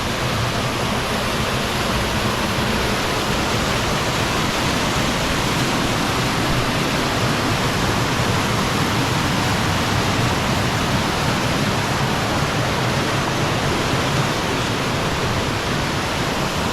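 Water cascades steadily at Peessa Waterfall in Badulla, Sri Lanka, a dense, unbroken roar of rushing water that stays loud and close throughout with no voices.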